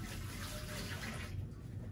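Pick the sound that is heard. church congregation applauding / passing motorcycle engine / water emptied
water emptied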